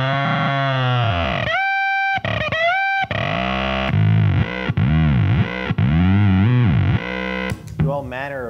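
A bass runs through a Tortuga Sasquatch germanium fuzz pedal in freakout mode, giving a loud, continuous, heavily distorted tone with sweeping, wobbling pitch and glitchy bursts over about eight seconds.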